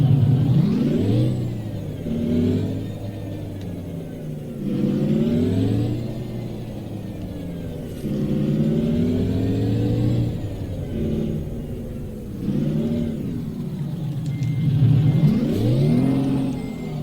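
Truck engine in a truck driving video game revving repeatedly, rising and falling through gear changes in long sweeping surges, loud and close with no voices.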